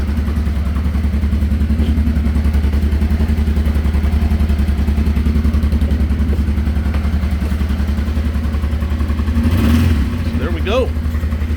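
A 1989 Honda Transalp 600V motorcycle idles on a cold start, a close, steady, low throbbing engine rhythm, with a brief clatter and a short rising whine near the end.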